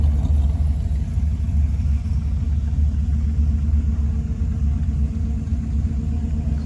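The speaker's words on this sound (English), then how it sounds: "Look at the gasser wagon over here backing in" Classic gasser wagon backing in at a drag strip, its engine rumbling in a deep, steady, loud idle close by, uninterrupted and with no talk over it.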